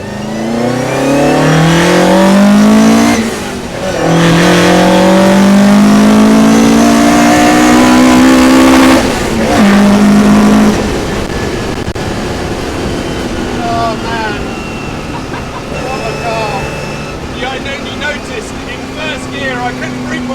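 A Japanese-engined Austin Healey Sprite revs hard and loud toward its limiter, the engine note climbing in rising sweeps, dropping briefly between pulls, then settling into a rougher idle with crackles, while people talk over it.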